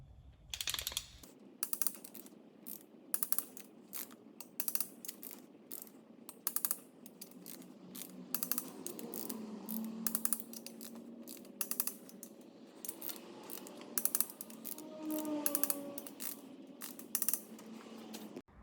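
A torque wrench ratchets in quick runs of sharp clicks while tightening the cylinder head bolts on a 1.9 TDI PD racing engine. The clicking bursts repeat throughout, close up and fairly loud against a quiet workshop background.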